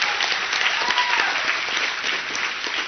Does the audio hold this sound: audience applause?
yes